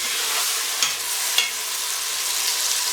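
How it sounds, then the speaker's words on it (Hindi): Minced beef hits hot oil and masala in a pan, giving a loud, steady sizzle with a couple of sharp spoon scrapes and stirs, close up and without talk. "अब हम जो है ना इसमें कीमा डालेंगे"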